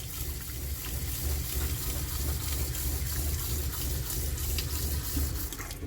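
Water runs steadily from a faucet in a Little Guy Mini Max camper as the lines are flushed with antifreeze, a continuous broadband rush that stays close and even throughout with no voices.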